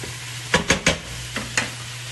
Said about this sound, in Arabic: نحمسها بهذا الشكل